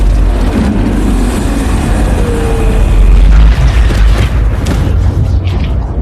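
A deep, loud boom of a photon engine explosion rumbles through, sustained low roaring with debris-like noise, no voices.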